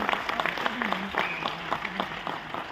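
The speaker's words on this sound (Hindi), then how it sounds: "संदीप सर के लिए जोरदार तालियां होनी चाहिए" An audience at a stage event applauds with steady, dense clapping throughout, and a voice speaks loudly over the clapping.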